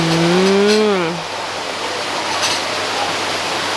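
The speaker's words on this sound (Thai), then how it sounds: "แล้วเป็นน้ำตกจ้า บรรยากาศดีมาก" Waterfall beside a café terrace at Mae Kampong, Chiang Mai, a steady broad rush of falling water under a woman's brief speech at the start, then continuing alone.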